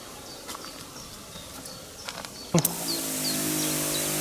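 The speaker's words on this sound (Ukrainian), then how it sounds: "беремо наш оприскувач, одягаємо його на плече. Вмикаємо і прискаємо." A shoulder-carried herbicide sprayer, loaded with Hurricane Forte, starts with a sharp click midway through quiet outdoor ambience with faint insect chirps, then settles into a continuous, fairly loud whirring hiss as it sprays.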